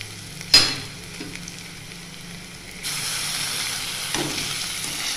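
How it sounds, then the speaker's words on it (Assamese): Onions browned in a pan sizzle steadily as chilli and ginger-garlic paste go in, with a sharp hiss at the start and a louder burst of frying partway through, close and without talk. "ইয়াত এতিয়া মই জলকীয়া দিলোঁ আৰু আদা নহৰু পেষ্টটো দি দিছোঁ"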